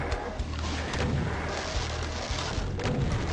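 Monsters firing in the Doom 2 map Earthless, heard as dense, continuous rumbling booms and blasts with constant low thuds, loud and layered without a break.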